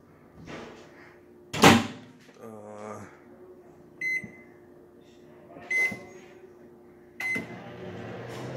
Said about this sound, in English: Wrap it up and put it in the microwave so the cheese can melt.